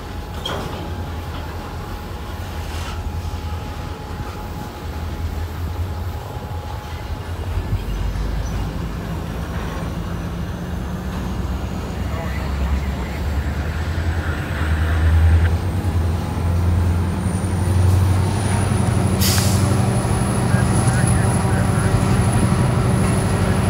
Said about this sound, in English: Three trains at once.